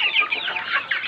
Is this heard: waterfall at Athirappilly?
no